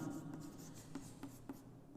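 Chalk or marker writing on a board during a Hindi-language school physics lecture on kinetic energy, a steady scratchy scrawl with a few sharper taps between strokes, close and fairly quiet, with no voice.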